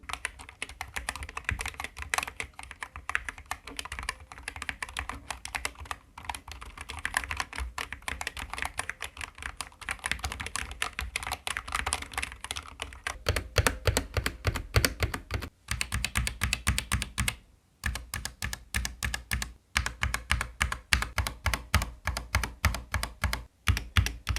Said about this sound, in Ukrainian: Давайте тепер подивимось, який звук у цієї клавіатури.